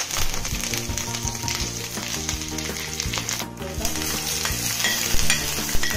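Mustard seeds, cumin and curry leaves sizzle and crackle steadily in hot coconut oil, a dense close-up frying hiss with scattered pops and stirring clinks throughout.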